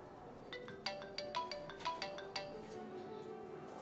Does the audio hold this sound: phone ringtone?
yes